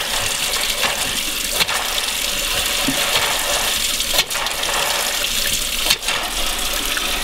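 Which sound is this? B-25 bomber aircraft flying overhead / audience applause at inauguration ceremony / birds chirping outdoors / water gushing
water gushing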